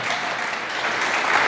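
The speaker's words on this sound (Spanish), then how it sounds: "Dele un aplauso a Dios por eso." Church congregation applauding together, a steady, dense wash of clapping that holds evenly for a moment without any voices over it.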